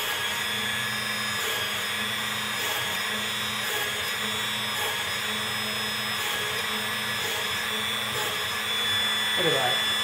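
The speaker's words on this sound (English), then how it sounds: "So here I'm going to drill a few holes." A rotary tool mounted in a drill press drilling a few holes, its motor giving a steady high whine throughout with faint periodic changes as the bit bites, close and continuous.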